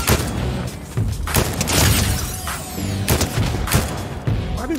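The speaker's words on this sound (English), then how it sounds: "Why do they keep shooting me?" Gunfire and booming explosions in a video game battle, loud and close, with repeated bursts of shots and heavy impacts spread throughout.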